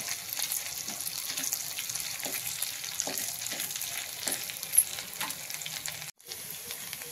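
Cloves sautéing in ghee in a pan, a steady close sizzle with scattered soft stirring clicks and one brief sharp tap near the end, no voices.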